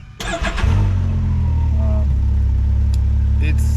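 The turbocharged three-cylinder engine of a 2022 Can-Am Maverick X3 DS Turbo four-seat side-by-side cranks and catches, then settles into a loud, steady, low idle close by, with a slightly uneven throb.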